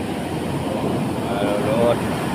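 Steady roar of surf rolling in, a broad wash of wave noise with wind buffeting the microphone.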